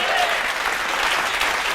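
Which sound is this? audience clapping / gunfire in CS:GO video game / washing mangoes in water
audience clapping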